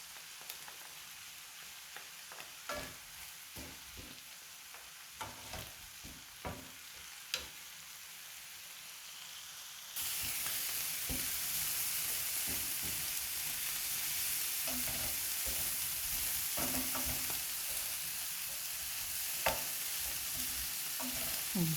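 Pressed garlic and parsley frying in a pan, with a low sizzle and intermittent stirring scrapes, then a louder, denser hiss of frying that continues steadily.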